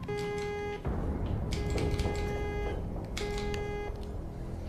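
An electronic nurse call bell in a hospital room chimes in three repeated bursts of steady tones, each lasting under a second, over a constant background hum.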